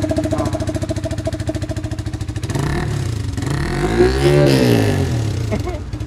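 A Yamaha motorcycle fitted with an Akrapovic exhaust throbs at a close, loud idle, then the engine is revved up and back down in one rising and falling sweep.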